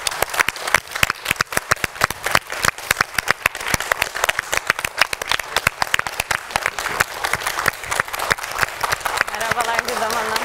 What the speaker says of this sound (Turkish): Cansu'ya bir hoş geldin alkışı alabilir miyim lütfen hanımlar?